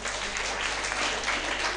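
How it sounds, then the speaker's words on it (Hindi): Audience applause at a senior citizens' conference session, a steady wash of clapping from a crowd that fills the whole moment without pause. "ताली बजाइए हम अपने आप को"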